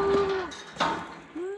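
Cattle being herded for drenching give two or three nearby moos, the first long and drawn out, the last rising as the clip ends.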